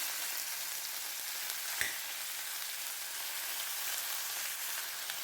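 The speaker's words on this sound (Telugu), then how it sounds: "వేపుకుందాం." Brinjal pieces frying in a hot pan for a bachelor-style vankaya vepudu, giving a steady soft sizzle throughout with one brief stir or clink near the middle, no voices.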